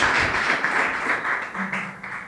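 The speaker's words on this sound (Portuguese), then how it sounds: "Louve ao Senhor com as suas palmas, em agradecimento pela palavra de hoje" A church congregation claps in praise after a sermon, a dense, steady wash of applause with many hands at once, loud and continuous for the whole moment.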